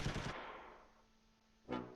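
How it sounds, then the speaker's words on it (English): Tank guns fire in the wartime strategy game Close Combat III: one sharp blast with a long fading tail, then a second loud report about a second and a half later. "There they finally start shooting."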